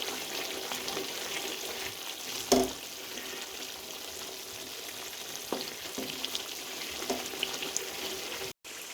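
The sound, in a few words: masala being roasted (bhunai) in a pot for mutton biryani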